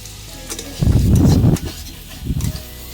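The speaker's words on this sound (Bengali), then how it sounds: "এই যে আলুটা ভাজা হয়ে যাচ্ছে" Potatoes frying in a pan, a close sizzle with two bursts of louder scraping and stirring, the first longer, against a low steady background.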